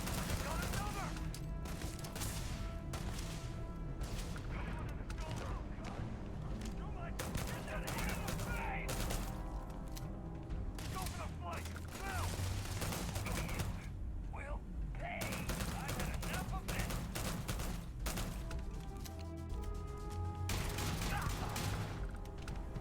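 Repeated gunfire from the player's weapon in the space game Starfield crackles in steady bursts across the whole stretch, dense and loud, mixed with in-game music and effects, with a voice talking over it.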